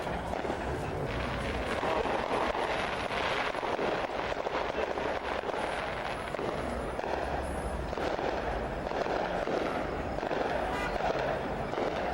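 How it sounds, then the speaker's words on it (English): Distant fireworks crackle and pop continuously at an outdoor Saturday night show in Dearborn, heard as a steady far-off rumble under wind and background noise. "Oh, yeah, and then the fireworks off yonder."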